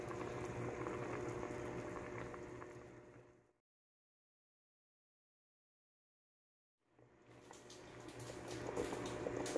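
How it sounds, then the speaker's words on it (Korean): Korean dried pollack soup bubbles at a steady rolling boil in a pot, close and constant, then cuts to silence for a few seconds before the same burbling boil resumes. "구수하고 맛있는 황태국이 익어가는 소리를 들으십니다"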